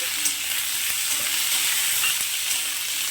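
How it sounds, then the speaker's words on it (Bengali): Steady sizzling as green peas stir-fry in a hot pan, with a few soft stirring scrapes, no talking. "মটরশুঁটিটা হালকা নাড়াচাড়া করে দিয়েছি"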